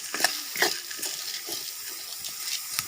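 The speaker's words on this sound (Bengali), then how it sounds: "এখন এগুলি মিক্স করতেছে ভালোভাবে" Rice being stirred with salted water in a frying pan over a wok, giving a run of soft scraping and wet sizzling strokes at a steady rhythm, close and moderately loud with no talk.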